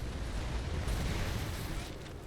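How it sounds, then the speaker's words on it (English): Mortar fire in the video game Gears of War: a continuous, dense rumble of blasts and booms that fills the whole stretch at steady loudness. "I'm gonna shoot some mortars"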